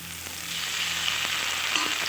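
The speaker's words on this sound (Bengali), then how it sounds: "এবার ভালোভাবে একটু মশলাটা কষিয়ে নেব" Browned onions with dried chilli, ginger and cumin paste fry in a pan, giving a steady close sizzle with a few faint spatula knocks and no talk.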